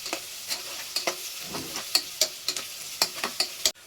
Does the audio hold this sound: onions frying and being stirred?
yes